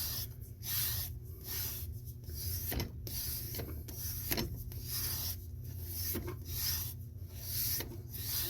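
A handmade hunting knife blade being stropped on paper gives repeated rasping, rubbing strokes in a steady back-and-forth rhythm, close and fairly quiet, with no talking.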